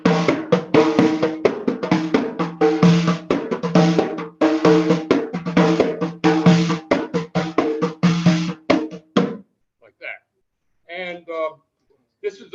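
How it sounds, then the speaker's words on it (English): A North African bendir hand frame drum with buzzing strings plays a fast, buzzy rhythmic pattern, each stroke rattling with a snare-like hum, then a few sparse, quieter strokes after a brief pause. "This particular one is from North Africa because it has strings in it."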